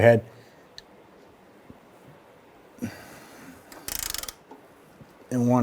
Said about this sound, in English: put our ratchet with a socket on the other side